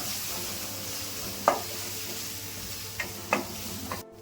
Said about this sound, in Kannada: ಈರುಳ್ಳಿನ ಒಗ್ಗರಣೆಲ್ಲೇ ಸ್ವಲ್ಪ ಹಾಕ್ಕೊಳ್ಳೋಣ